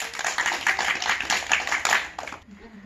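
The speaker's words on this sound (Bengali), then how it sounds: "সবাই একটা জোরে হাততালি দেন" A group of people clapping at the start of a household game, rhythmic unsynchronised claps that pulse loudly for over two seconds, then cut off suddenly as a voice begins.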